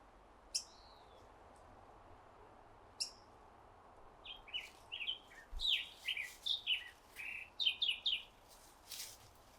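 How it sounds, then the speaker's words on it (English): Birds singing outdoors at a wooded Oregon trail sanctuary: a couple of isolated sharp calls early, then a rapid series of bright chirping song phrases, moderately close against a quiet background. "The birds sang me a pretty song."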